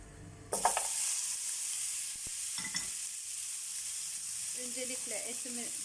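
Bone-in meat hits hot oil in a pot with a sudden loud sizzle that settles into a steady frying hiss, with a few clinks and brief talk.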